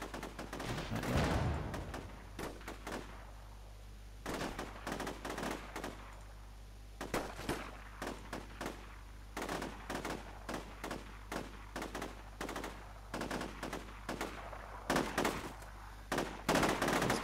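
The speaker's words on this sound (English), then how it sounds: "This guy's firing." Gunfire in the combat video game Combat Mission: Shock Force 2: repeated bursts of automatic rifle fire and single shots, sharp cracks clustered in rapid volleys over a low steady background hum.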